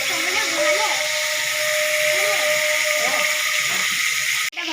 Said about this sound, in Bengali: চিকেনটা ভেজে নেব।